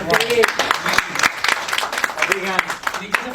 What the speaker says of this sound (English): Just a clap for them.